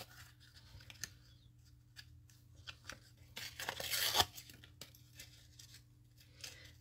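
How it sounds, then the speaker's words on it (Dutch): Paper is torn diagonally by hand for a handmade card, several small crinkles and rips building into one longer tearing stroke, soft and close in a quiet room. "We scheuren hem schuin af."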